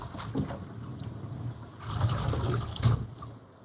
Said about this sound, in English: This is how I love to rinse my vegetable. Have a lot of water go in